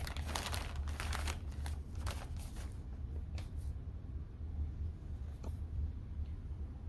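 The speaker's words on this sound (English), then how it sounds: "I'm just going to place this plastic bag somewhere that's going to be convenient to collect trash" A plastic trash bag crinkles and rustles in brief crisp bursts close by while being placed during setup for a female indwelling catheter procedure, then the handling quiets down.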